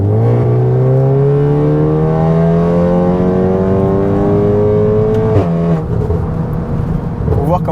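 A stage 2 Seat Leon Cupra ST estate, about 400 hp, accelerating hard. Its engine note climbs steadily and loudly, cuts briefly at a gear change, then pulls again, with people talking faintly over it.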